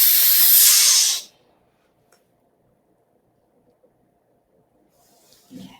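A steam iron gives a loud burst of hissing steam onto short intersecting fabric seams, lasting about a second and then cutting off into near silence, followed by faint handling noise.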